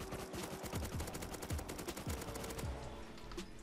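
Rapid automatic gunfire in the survival game Rust during a raid defense, dense repeated shots with bursts and distant reports layered throughout, loud and continuous with no speech.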